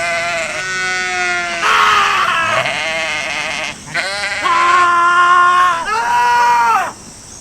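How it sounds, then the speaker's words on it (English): Goats screaming, a series of loud, shrill, human-like bleats in quick succession, each held for a second or more with short gaps between, close and alone. "This is really an exercise on how many screaming goats will you guys tolerate."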